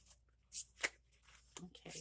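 Brief riffling bursts of cards being shuffled, quiet and close, broken up by short pauses and a few soft taps.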